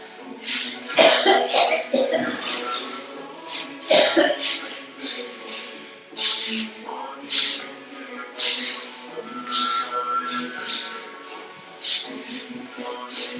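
Many short coughs and throat clearings come from several people in a Kundalini yoga class, scattered and overlapping at an uneven pace.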